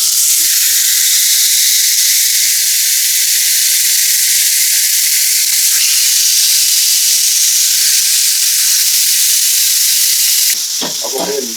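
Blackened catfish fillets sizzle steadily in a hot skillet, a loud, continuous frying hiss that runs nearly unbroken, with a clatter of utensil handling near the end.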